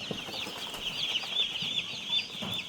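Young chickens on poultry litter in a shed, a dense chorus of high chirps and clucks close by, continuous with small swells.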